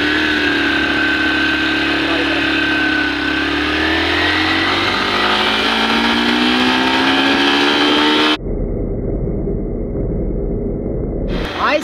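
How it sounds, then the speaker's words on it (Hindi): A Yamaha FZ motorcycle engine accelerates hard in first gear, its loud, rising whine climbing steadily in pitch for about eight seconds before the sound cuts abruptly to a rougher, steadier engine noise. "बाइक को स्टार्ट करते हैं, उसके बाद फर्स्ट गियर लगाते हैं"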